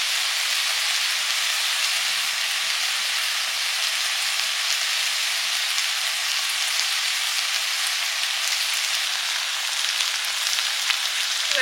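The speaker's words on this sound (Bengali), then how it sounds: "ঝোল ফুটে গেছে, মাছগুলো দিয়ে দিচ্ছি।" Tilapia pieces dropped into a boiling Bengali fish curry with new potatoes and tomatoes, giving a steady, loud hiss and sizzle that continues unbroken for the whole stretch, with no talking.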